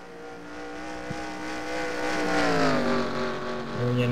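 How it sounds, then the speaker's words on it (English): The number 91 Dodge race car drones around the track in a racing video game, its engine a steady harmonic whine that rises and shifts in pitch as it coasts, fairly close and alone. "A nice look at that number 91 Dodge coasting around the track"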